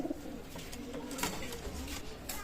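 Golden pigeons coo softly in low, rolling calls at a pigeon loft, fairly quiet against a steady background hiss.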